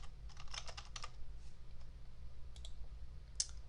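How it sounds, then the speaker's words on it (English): Typing on a computer keyboard while entering a spreadsheet function, a quick burst of clicky keystrokes followed by a few scattered isolated key taps, close and fairly quiet over a low background hum. "This time I'm going to type in maximum."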